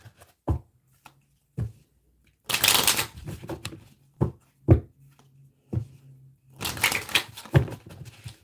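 Romeo and Juliet tarot cards shuffled in two loud riffling bursts, broken by sharp taps and knocks of the deck, close up with quiet gaps between.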